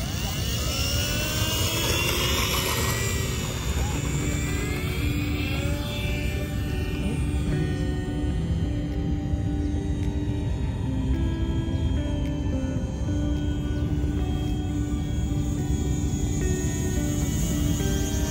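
An Eachine mini P-47 RC warbird plane takes off and flies, its small motor giving a loud, sustained whine that sweeps up and down in pitch as it climbs and passes overhead.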